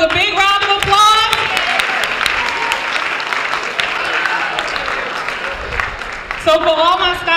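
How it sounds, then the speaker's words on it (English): Applause from a school assembly audience at the start of a 2019-2020 school year, a dense wash of clapping filling the room. Voices and whoops cut through at the start and again near the end. "Give yourselves a big round of applause."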